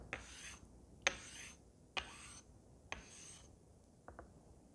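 A Thiers straight razor is honed on a fine 12K-grit sharpening stone with slurry, producing four close, rhythmic raspy strokes about a second apart, each starting with a sharp scrape, followed by two shorter, lighter passes.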